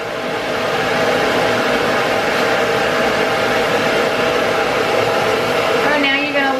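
A hair dryer blows steadily and loudly while drying a Shih Tzu after a bath, a constant close whooshing hum that starts abruptly and runs unbroken throughout.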